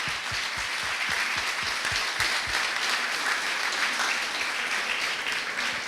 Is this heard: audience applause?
yes